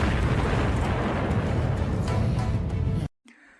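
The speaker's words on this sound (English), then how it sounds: "creating an explosion with his bombs to deal massive physical damage, causing a loud sound resembling thunder as a result" A massive bomb explosion and sword slam from the Demon Slayer anime roar as one loud, sustained thunderous blast that cuts off abruptly, leaving a faint tail.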